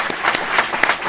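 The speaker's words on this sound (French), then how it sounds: "je vous demande vraiment de les accueillir avec vos applaudissements" A conference audience applauds, a fairly loud spread of hand claps with a few sharper, distinct claps standing out near the listener, brief and continuous with no talk.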